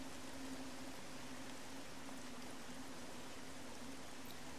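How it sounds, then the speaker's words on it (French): Steady, faint rain with light wind hisses evenly throughout, a soft background ambience from a LittleBigPlanet 2 level with no voices. "Le bruit de la pluie, du vent."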